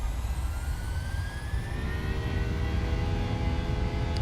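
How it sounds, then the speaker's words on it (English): Airliner jet engines spooling up to takeoff power in Microsoft Flight Simulator, a loud continuous roar with a deep rumble and rising whining tones, steady throughout with no talk. "Takeoff power set."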